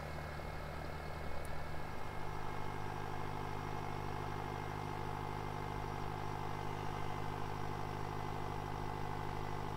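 A tractor engine strains uphill in Farming Simulator 19, a steady droning, loud, low rumble that holds level throughout with no voices over it.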